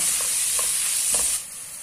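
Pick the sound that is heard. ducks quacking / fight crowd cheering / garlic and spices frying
garlic and spices frying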